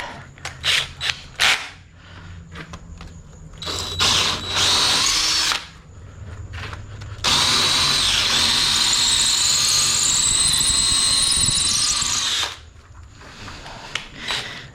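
A regular power drill whines in loud bursts, first short stuttering pulses, then two sustained grinding runs as the bit bores into a concrete wall, close by.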